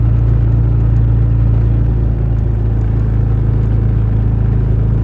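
A car drives steadily in third gear while crossing the Bukovets mountain pass, its engine giving a continuous, fairly loud low rumble with no break and no voices.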